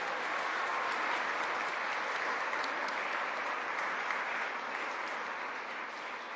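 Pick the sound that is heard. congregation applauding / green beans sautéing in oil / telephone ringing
congregation applauding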